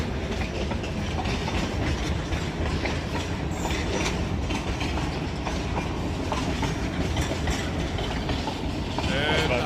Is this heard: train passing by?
yes